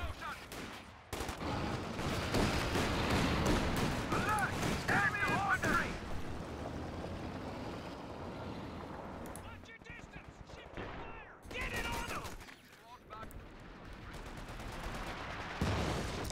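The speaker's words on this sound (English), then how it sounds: "Is that 50 cal going to work?" A .50 cal machine gun firing in a World War II strategy game, with rapid bursts and crackling gunfire mixed into a dense battle din of shots and blasts, under a speaking voice for much of the stretch.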